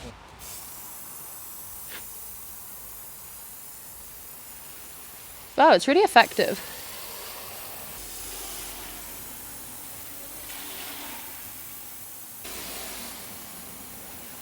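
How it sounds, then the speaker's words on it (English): Spray gun spraying paint onto a cast iron radiator, a short loud hissing burst of about a second with a few pulsing spurts, then quieter background hiss while people talk. "he really wanted to get his mitts on this spray gun"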